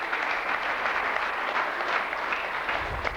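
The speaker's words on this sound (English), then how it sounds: "Can we give him a round of applause?" Applause from an assembled school audience honouring the principal at a formal occasion, a steady, dense wash of clapping that holds evenly throughout without voices.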